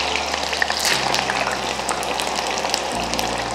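Pieces of kanda (elephant foot yam) frying in hot oil give a steady, close bubbling sizzle with fine crackles, continuous and without talk.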